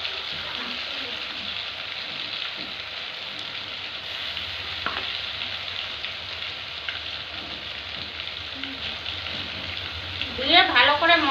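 Paste of onion, ginger, garlic and green chilli sizzles steadily in a pan with mutton, a constant close frying hiss with a brief louder burst near the end.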